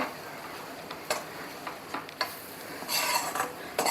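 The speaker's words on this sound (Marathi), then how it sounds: "2 मिनिटं ही डाळ मी तेलावरती परतून घेतलेली आहे." Ground soaked dal stirred in hot oil in a pan for vatli dal, a spatula scraping in scattered scrapes and taps over a soft steady sizzle, close and fairly quiet.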